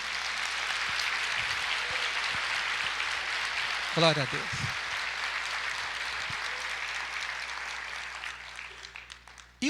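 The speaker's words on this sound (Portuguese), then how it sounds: "vamos aplaudir ao Senhor, se você ama o Senhor." A church congregation applauds in praise, a steady broadband wash of clapping filling the room throughout, with a voice calling out briefly midway and near the end.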